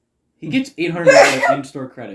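A single person's sneeze lands amid ongoing conversation, a brief sharp burst close to the mic, with voices talking around it.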